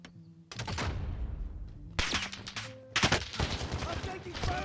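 Loud bursts of automatic gunfire in Call of Duty: Warzone during a Payload event, several separate volleys with short pauses between them, close and sharp.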